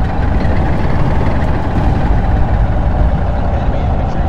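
An APC engine in the Project Reality war game rumbles steadily with a loud, dense low-frequency drone for the whole stretch, with no clear change in pitch.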